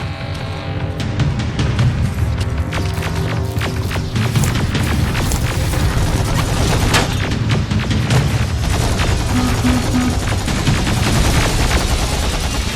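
Rapid machine gun fire and booming grenade explosions in the Terminator Resistance video game, a dense, loud, continuous barrage of shots and blasts throughout.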